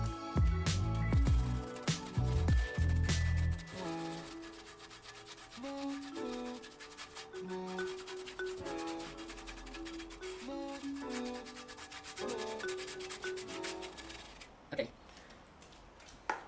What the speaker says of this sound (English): I'm just going to get the brush and sort of aggregate it, see if some of this tar has been loosened.